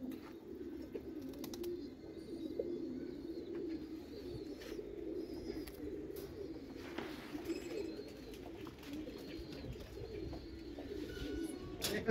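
Pigeons in a city loft in Mirpur, among them a silver male, keep up a steady low cooing murmur, close and continuous throughout, with scattered light clicks and rustles.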